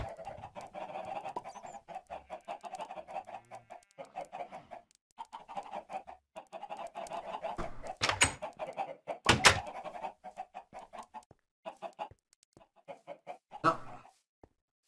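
Chickens in Minecraft cluck over and over in short rhythmic bursts with brief pauses, and a few louder sharp sounds cut in partway through.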